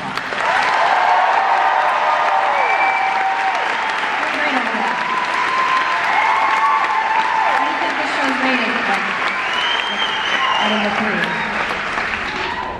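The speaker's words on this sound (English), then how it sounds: "Can you please give a huge round of applause to Tim?" Concert audience at a show at the Theatre at Ace Hotel in Los Angeles applauds and cheers, a loud, sustained wash of clapping with whoops and shouts running for the full length.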